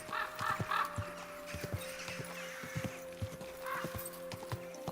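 Horse hooves in Kingdom Come: Deliverance II clip-clop at an unhurried walking pace on a hard surface, with a faint whinny early on and a steady background hum.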